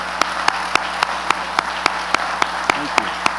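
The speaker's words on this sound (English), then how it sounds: "Let's give them a round of applause" Audience applause at an annual Homeport event, with sharp, evenly spaced claps about every quarter second over a steady bed of crowd noise, close and fairly loud.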